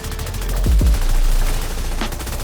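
Gunfire in The Division 2 video game, a few heavy low booming shots clustered near the start with a sharper crack later, over a steady dense game background with no talk.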